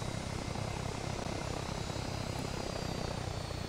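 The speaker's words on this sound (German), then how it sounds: "der Helikopter wartet schon so auf uns" A helicopter hovers in place in a video game, its rotor and engine producing a steady, continuous whir and chop at a moderate distance, with no talking over it.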